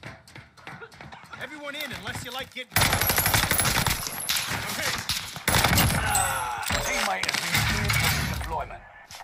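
Rapid automatic gunfire crackles through a Call of Duty Warzone match on the Caldera map, dense bursts with glassy clinks running under a player's loud, frequent talk.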